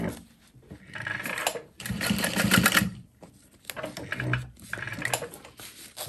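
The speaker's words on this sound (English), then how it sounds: "I'm gonna sew that in place down the center" A sewing machine stitches fabric for a backpack in short runs, rattling in bursts with pauses between, close and fairly loud.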